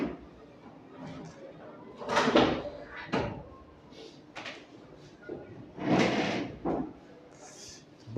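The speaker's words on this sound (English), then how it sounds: "you can get the door, Ravi, please" A classroom door opens and shuts with a few clunks and thuds of handling amid room noise and brief murmurs of voices.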